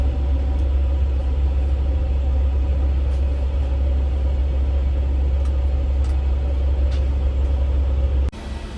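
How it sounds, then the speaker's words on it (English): An A350 aircraft's hydraulic system is pressurized to 5000 psi, producing a loud, steady low-pitched hum and rumble that holds evenly for several seconds, then drops away abruptly at the end. "So here we temporarily pressurize the hydraulic system for a moment to only 5000 psi."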